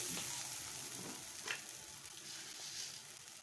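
Shrimp stuffing for potol dolma being stirred in a frying pan, a steady close sizzle with soft scraping strokes of a spatula, no talking.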